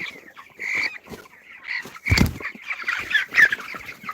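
Chickens on a poultry farm cluck and squawk in short overlapping bursts, close and fairly loud, with one sharp louder squawk midway.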